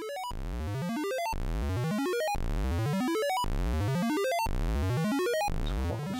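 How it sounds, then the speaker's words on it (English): A synth oscillator in VCV Rack has its pitch swept upward over and over by a sawtooth LFO. Each repeating ramp lasts about a second and is loud, buzzy and rich in harmonics, with no voices. "we've got an LFO sawtooth ramp that's controlling the pitch of the oscillator"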